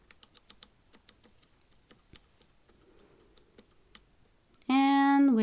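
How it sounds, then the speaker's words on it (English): A knife cuts green peppers into small pieces, sounding as faint, quick taps that run in uneven bursts. A loud tonal sound cuts in at the very end. "Now we are going to start by cutting our green peppers into little pieces."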